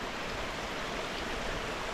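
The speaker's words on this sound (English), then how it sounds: "we got another section of the waterfall. It just steps down." Water from a small waterfall tumbles over rocky steps near a natural bridge, a steady broadband rush with no breaks. The splashing hiss holds even and moderately loud for the whole stretch, with no voices over it.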